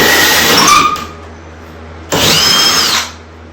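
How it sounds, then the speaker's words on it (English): A power drill bores through a wall behind sheetrock for PEX pipe in a mobile home bathroom, two loud close bursts of high whining drilling with a quieter pause between them. "When you're drilling through something. Drill through."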